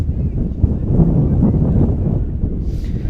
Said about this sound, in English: As you can hear the wind whipping around the stadium